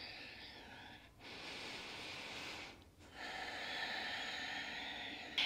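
A yoga practitioner breathes audibly through a stretchy vinyasa flow with heart-opening poses, giving two long, airy exhales separated by brief pauses, close and fairly soft.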